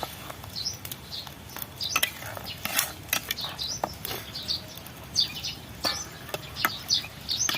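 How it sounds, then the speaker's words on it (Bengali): Chilli chicken thickened with cornflour slurry is stirred nonstop in a pan at an outdoor village-garden picnic: quick scraping clicks and taps repeat close by while faint birdsong chirps in the background. "কর্নফ্লাওয়ার গোলাটা দিয়ে কিন্তু কন্টিনিউয়াসলি নাড়তে হবে"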